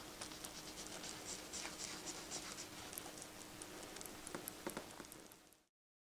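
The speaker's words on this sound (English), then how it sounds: "you can blend that colour all over the bottom part of the card." Ink being blended very lightly across the lower part of a card with a blending tool, a soft continuous scratchy rubbing with small repeated strokes, close and quiet, with no talking.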